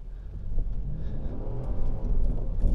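A 2023 Lexus GX 460 crawls forward off-road through snow and mud, its engine a low steady rumble that swells slightly under light throttle, close and continuous with no voices.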